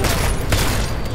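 Gunfire in the video game Deus Ex: Mankind Divided, a dense burst of rapid shots with a loud sharp impact midway through the short stretch.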